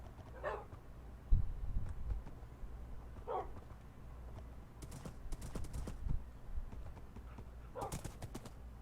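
A ridden horse in Minecraft clip-clops in short hoof clusters at a quiet, moderate level, with pauses between the bursts and occasional faint sounds in the background.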